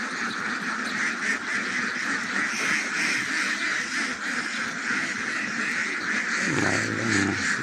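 Ducks quack continuously in a busy flock grazing on farmland, a steady chorus of overlapping calls at moderate distance with a low rumble near the end.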